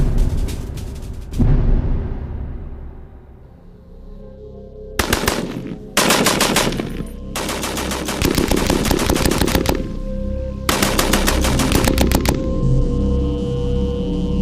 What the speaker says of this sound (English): A Spitfire's Browning machine gun just does not have the firepower to do any serious damage.